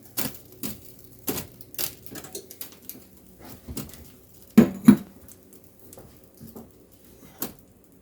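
Spoon scraping and tapping in a bowl while chili powder and garlic powder are stirred into enchilada sauce for beef enchiladas: a series of sharp, separate clicks and taps at irregular intervals, close and fairly quiet, with no talking.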